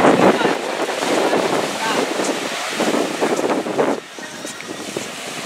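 Steady, loud wind buffeting the microphone on a beach during a kitesurfing session at Burwood Beach, with surf underneath and a voice talking briefly.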